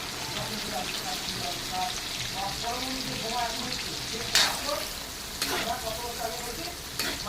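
Chopped onions fry in hot oil with cinnamon and bay leaves in a pot set up for 4 kilos of meat, giving a steady close sizzle throughout with a few sharp scraping clinks of stirring.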